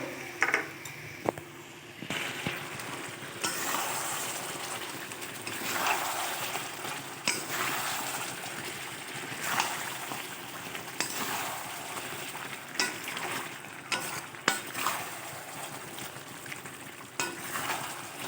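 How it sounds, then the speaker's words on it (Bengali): Chicken kosha, wedding-feast style, is stir-fried with ground spices and pepper in a pan, with a continuous low sizzle and irregular scraping and clanking of a spatula against the pan throughout. No one speaks. "চিকেনটা কষানো চলছে"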